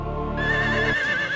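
A horse gives one loud, close whinny, a bright wavering call that holds for about a second before dropping off, with no talking.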